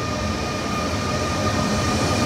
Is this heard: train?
yes